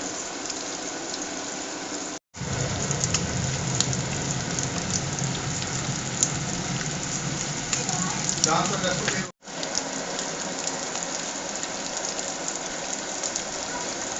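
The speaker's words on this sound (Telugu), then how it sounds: "ఈ కొరమేను చేప ముక్కలు అనమాట ఫ్రెండ్స్. ఇది ఈ విధంగా ఫ్రై అవుతుంది అనమాట." Pieces of korameenu (murrel) fish deep frying in oil, giving a loud, steady, dense crackling sizzle that runs continuously, broken only by two brief sudden dropouts.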